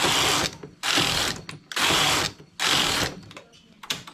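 Knitting machine working a tuck rib stitch, its carriage drawn back and forth in four loud mechanical passes, each a dense clattering rasp about half a second long with brief pauses between, close and without talk.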